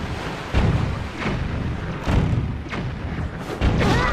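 Cannon fire in The Legend of Zelda: The Wind Waker: several heavy, booming blasts spaced about a second apart over a steady roaring background.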